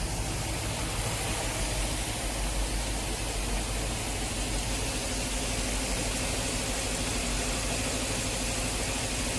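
A 1953 Riley RMF fitted with a Rover V8 runs cold at a steady idle, a continuous, even engine drone heard close and unbroken for over nine seconds with no talking.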